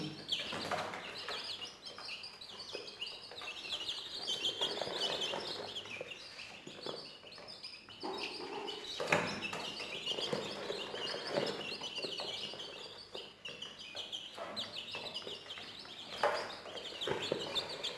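Many small bantam chicks, about two to three weeks old, cheeping in high, continuous peeps in a wire cage, close by, with occasional louder bursts and no talking.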